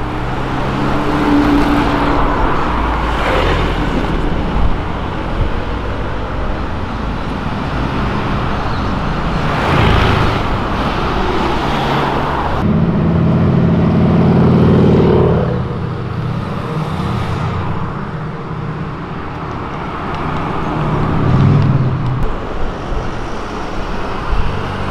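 A Volkswagen Jetta TSI on a city avenue gives off loud engine and exhaust noise, rising and falling surges over ongoing traffic roar, with some sharp crackles.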